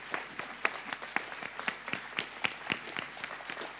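A small audience in a cinema hall at a film festival claps sparsely, with distinct individual hand claps in a loose, moderately quiet patter.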